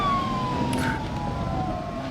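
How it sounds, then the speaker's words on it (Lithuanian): A police siren in the BeamNG driving game wails with a steady sweeping tone, fairly faint and distant under a low continuous engine rumble, no one talking. "Kažkur policija yra."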